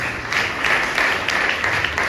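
A church congregation claps loudly and continuously in a big room, a dense, sustained round of applause with no voices standing out.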